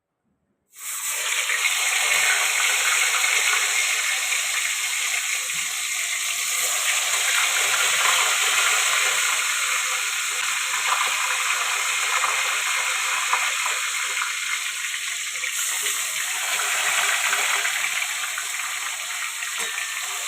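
Koi fish fry in hot oil in a kadai, giving a loud, steady hiss that starts abruptly and holds evenly throughout, close and with no talking.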